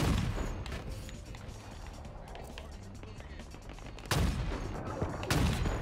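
Rapid gunfire in the Halo Infinite multiplayer shooter, bursts of shots crackling through a busy mix, growing louder near the end with heavy blasts, while a voice talks over the action.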